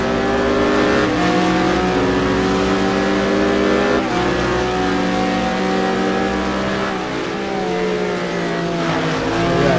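Porsche and BMW GT2 race cars lapping Interlagos in a racing simulator, engines roaring loud and steady with layered revving harmonics and shifts, one car closely trailing the other throughout.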